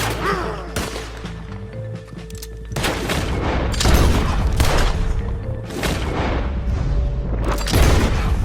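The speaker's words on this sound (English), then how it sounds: "Here's a very good example of some of the dissipation that we see when bullets come your way on Red Dead." Gunfire in Red Dead comes in at the player, with repeated loud shots and booming bursts in an irregular rhythm and some close, some distant.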